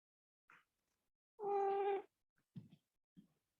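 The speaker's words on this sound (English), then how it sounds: "We've got cat babbling as well." A house cat gives one clear, sustained meow at close range, with a few short, softer chirps and bits of breath before and after it; nothing else is heard.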